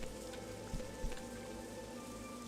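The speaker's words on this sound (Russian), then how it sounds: "Дождь все еще не кончился." Steady rain patters on surfaces in a Morrowind Tamriel Rebuilt game scene, a soft continuous hiss with a couple of slightly louder drop impacts, faint and without any talk.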